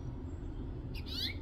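A female house finch calls near her nest: after a stretch of steady low background hum, a short pair of sharp, high chirps rings out near the end, moderately close.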